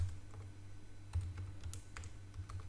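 Fingers tap text out on a computer keyboard in a steady run of soft, close clicks, with a brief louder keystroke partway through and no talking.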